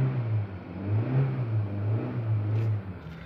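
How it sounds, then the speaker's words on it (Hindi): A 2023 Maruti Suzuki Swift LXI petrol engine revs briefly, a steady low drone rising slightly and easing back, heard close and continuous with no talking. "अब इसकी जो है आवाज़ सुनना आप। एक बार रेव करते हैं थोड़ा"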